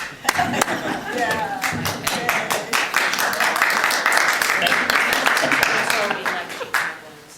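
An audience at a poetry reading claps after a poem, a steady crowd of hand claps that builds and holds for several seconds before tapering off, with a little voice mixed in.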